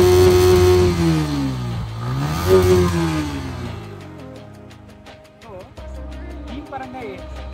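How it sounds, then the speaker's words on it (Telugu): A Yamaha MT15 motorcycle on its stock exhaust revs loudly up and down, the pitch rising and falling in sweeps before settling to a steady idle, close up with no talk. "ఫైనల్గా వచ్చేసరికి స్టాక్ ఎగ్జాస్ట్ సౌండ్ కూడా మనం ఒకసారి విందాం"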